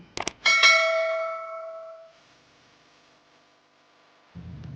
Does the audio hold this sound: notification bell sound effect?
yes